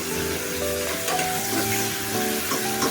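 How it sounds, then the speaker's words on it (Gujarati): Onions, curry leaves, tomato and turmeric sizzle loudly and continuously in hot oil in a pan, with a few soft stirring scrapes, close and with no voices. "થોડીક સસડવા દઈશું એને, સરસ તેલ છૂટું પડી જાય ત્યાં સુધી એને સસડાવવા દઈશું આપણે"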